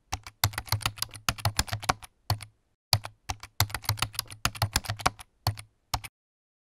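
Python code being typed into a new file in the IDLE editor on a computer keyboard, a close, steady run of quick keystrokes in several bursts with short pauses between them, and no voices.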